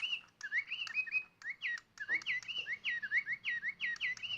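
Rapid electronic birdsong from a Digi Birds toy bird: a close, continuous string of sharp chirps and sliding whistles with brief pauses, heard alone in a quiet indoor space.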